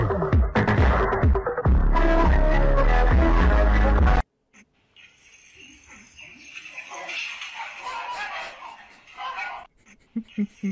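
A dog barks and whimpers with short, sharp yips once loud music cuts off. The calls are close and come in uneven bursts, with some voices in the background.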